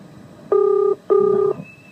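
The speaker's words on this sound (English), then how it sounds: "Are you dialing, my darling? Yeah. Dialing for dollars." Two steady touch-tone dialing beeps, each about half a second long with a short gap between them, heard over faint background hiss. Someone is calling in to a 1992 Triple M radio breakfast show contest.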